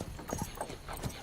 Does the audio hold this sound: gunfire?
no